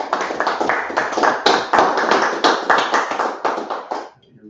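A congregation at a Sabbath service claps in a steady, strong rhythm, sharp rapid hand claps with regular accents for about four seconds, then stops abruptly.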